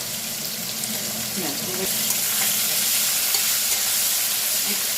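Steady sizzling and crackling of pumpkin greens frying in a pan with turmeric and salt, close up, with a few brief clinks of stirring and no talking.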